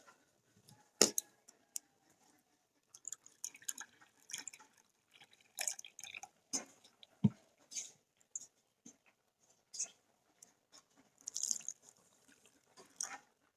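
Bowls of water poured into semolina for a potato snack, scattered close splashes and drips in short bursts separated by near silence, quiet overall with no talking.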